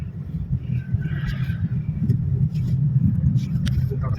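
Steady low rumble of road traffic with passing vehicles, people talking faintly in the background.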